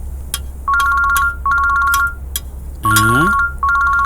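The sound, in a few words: phone ringtone ringing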